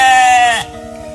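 A Garut ewe gives a loud, strained bleat lasting about half a second during shearing, then the sound drops to quieter farm background.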